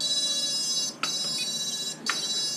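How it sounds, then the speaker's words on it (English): A continuous high electronic beeping tone from a motor after radio signal loss with a Radiolink AT10s transmitter, broken by two short gaps about a second apart, close and fairly loud with no talk. "the motor should start beeping"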